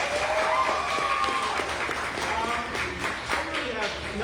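Applause from an open mic audience for a poet, a burst of clapping heard under and around a host's loud talking.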